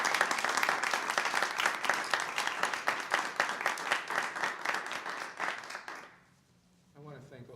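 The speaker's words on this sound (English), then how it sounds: "So your tri-state team applauds you." Audience applause at a council review gathering, a sustained burst of many hands clapping that fades out after about six seconds, followed by a voice starting to speak.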